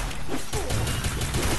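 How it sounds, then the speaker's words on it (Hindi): Rapid gunfire in the mobile battle royale Free Fire, a loud continuous burst of shots running through the whole short stretch with no voices over it. "ये फायर करता है, फायर करता रहे, फायर करता रहे, फायर करता रहे"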